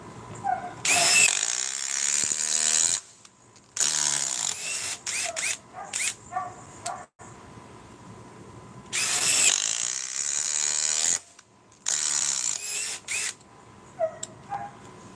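A cordless power tool drills a fresh hole through a fastener in repeated loud bursts of whirring and ratcheting, separated by short pauses and quiet gaps.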